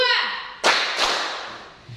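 During a classroom counting clap game, a voice is followed by two sharp group claps in quick succession, loud and close, the second a bit softer.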